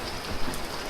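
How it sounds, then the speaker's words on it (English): Rain falls outside as a brief, steady hiss of drops on surfaces, soft and even throughout. "It's so rainy outside."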